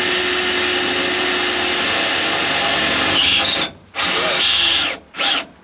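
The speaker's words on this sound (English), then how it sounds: "we're going to go ahead and drill it" A power drill bores a pilot hole for seat belt mounting in a 1967 Dodge Power Wagon, whining loudly and steadily for several seconds, then cutting off and starting again in two short bursts.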